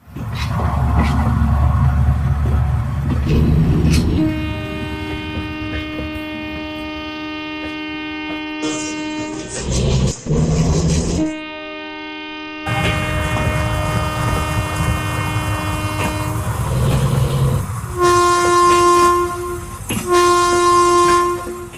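An Indian locomotive horn sounds loud and close over the rumble of a train, giving two long blasts followed by two short blasts, with no talking.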